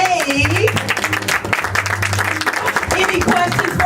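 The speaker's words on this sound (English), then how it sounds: "Clap it up for Mr. Wade." Fashion show audience applauding a designer, steady clapping filling the room at moderate volume, with voices and background music running underneath throughout.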